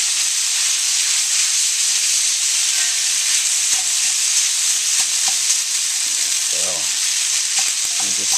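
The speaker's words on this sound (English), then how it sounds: "Just spread those out in a thin layer in the bottom of the wok, and we'll mix in our ingredients." Instant ramen noodles stir-fry in a wok with pork, shrimp, vegetables and scallions, giving a loud, continuous sizzle with faint scraping and stirring knocks throughout.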